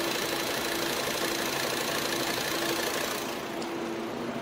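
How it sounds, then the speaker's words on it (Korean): A Volkswagen Passat engine idles steadily, a close, even mechanical hum with a faint whine and no speech over it. "차량 엔진 소음 들려드리면은"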